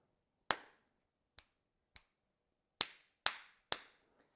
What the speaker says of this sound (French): Et pour compter ces claquements de doigts, vous pourrez utiliser des lettres.